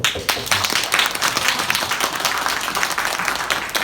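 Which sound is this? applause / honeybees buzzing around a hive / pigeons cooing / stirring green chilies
applause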